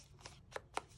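Scissors cut through scraps of paper while trimming the edges of a handmade card, with three quick, close snips spaced apart against quiet.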